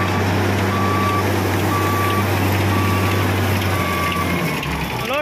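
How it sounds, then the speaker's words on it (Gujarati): Machinery loading crushed stone aggregate into a tractor trolley at a quarry site, with a steady loud engine drone, intermittent reversing beeps and clanking mechanical rattle throughout. "આ મશીનથી કપચી ભરી રહ્યા છે આપણે ટ્રેક્ટરમાં."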